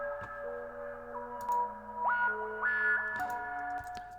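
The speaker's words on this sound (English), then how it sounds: "there's already a bit of a reverb type effect on that pad" A sustained synth pad with shifting tones, washed in roomy reverb that leaves a lingering tail behind each change.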